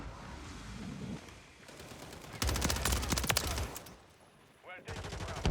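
A sustained burst of rapid automatic gunfire in a first-person shooter rattles loudly for about a second, between quieter stretches with faint voices and game sounds.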